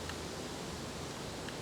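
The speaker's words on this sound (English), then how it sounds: "I thought we might go back to our waterfall" Recorded waterfall sound for relaxation at the close of a chair yoga session, a soft steady broadband rushing hiss that stays unchanged throughout with no talk.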